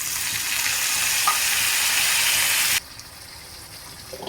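Masala for a spicy Bengali tangra fish curry sizzles loudly in the pan, then a splash of water is added and the harsh frying hiss abruptly drops to a quieter bubbling simmer.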